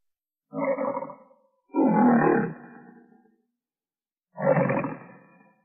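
Three loud lion roars from Jackie, the MGM lion, heard over the Telly the Lion logo. Each is a deep, rough bellow, and the second is the longest. Short silent gaps separate them, and no talk is heard.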